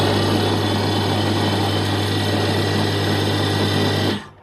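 A homemade belt-driven tool and cutter grinder runs steadily and loudly with a constant hum and high whine, no speech, before the motor cuts off and spins down near the end.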